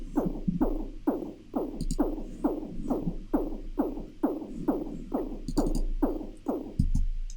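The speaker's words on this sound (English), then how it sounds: "And then I have kick number 3." A layered kick drum sample rolls in a fast, even pattern of about a dozen quick hits over a low steady hum, each hit soft and short, moderately quiet and heard alone with no talking.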